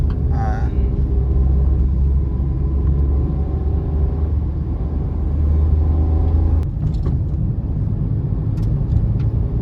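A car drives along a road from Mumbai to Nashik with a steady low rumble of engine and tires from inside the cabin, and a few brief knocks partway through.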